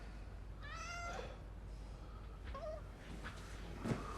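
A cat gives a drawn-out meow, then a shorter second cry a little later, both faint over a steady hiss of background noise, with a soft thump near the end.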